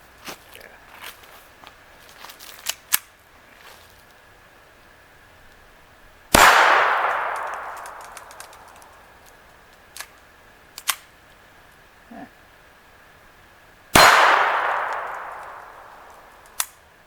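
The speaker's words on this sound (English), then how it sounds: "I'm just going to shoot at the different steel targets" Two sharp, loud reports from a Walther P22 pistol fired at steel targets about 7 yards away, each followed by a long ringing decay, separated by several quiet seconds of small handling clicks and taps.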